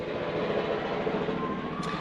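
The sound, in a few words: helicopter flying overhead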